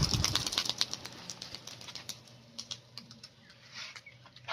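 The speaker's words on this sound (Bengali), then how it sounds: "এই 6টা পায়রা ছাড়ছি" Six racing pigeons, three cocks and three hens, released at a club pigeon-flying contest, a quick burst of dense wing claps and flapping close by, then scattered softer flutters fading as the birds fly off.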